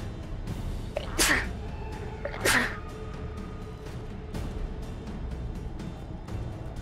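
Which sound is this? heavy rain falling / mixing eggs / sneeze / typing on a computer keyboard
sneeze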